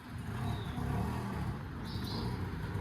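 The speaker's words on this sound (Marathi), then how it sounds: "मी चाललो आहे रिक्षाने" An auto-rickshaw engine drones steadily from inside the moving vehicle, a close, continuous low rumble with a faint high whine partway through; no talking.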